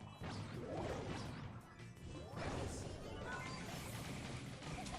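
Wooden crates and barrels breaking in a desert-themed map of the Brawl Stars mobile game, a series of loud cracking smash bursts over game effects and background music.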